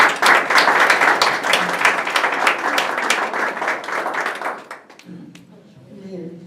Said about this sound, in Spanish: y el aplauso para ella